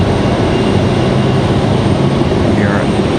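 An Air Canada airliner lining up for departure on the runway at Raleigh-Durham International, its steady, loud engine roar filling the clip without a break, heard from nearby with no talk.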